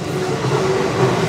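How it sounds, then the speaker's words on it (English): A train rumbles past nearby in Kyoto, a loud, steady low roar with a faint metallic whine running through it, heard on its own without talk. "that was the train."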